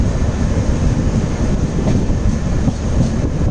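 A goods train on a railway loop line gives a steady, loud, low rumble of rolling wagons with a faint rhythmic clatter throughout, heard without any voices.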